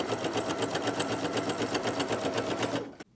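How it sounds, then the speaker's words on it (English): A sewing machine zigzag stitches down a fabric seam allowance with a steady, rapid mechanical whir and needle chatter, close and continuous, stopping abruptly near the end. "then we're going to zigzag stitch down the length"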